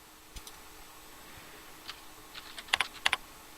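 Someone types a menu name on a computer keyboard, a few soft key clicks that start sparse and end in a short, quick cluster in a quiet room.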